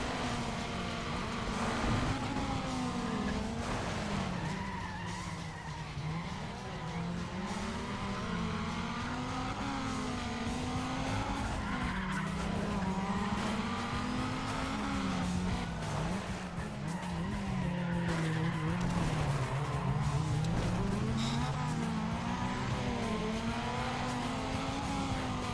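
A Toyota Corolla racing in Need for Speed ProStreet, engine droning continuously while tires squeal and skid through corners, pitch rising and falling with each shift and turn, loud and sustained with no talking.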